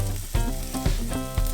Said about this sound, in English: Next, we're going to bring in our ground beef.